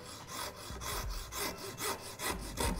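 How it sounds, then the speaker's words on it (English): A hacksaw cuts through a fishing rod blank held in a vise, making close, rhythmic rasping strokes, about one every half second, with a steady back-and-forth scrape. "you can just gently guide the hacksaw"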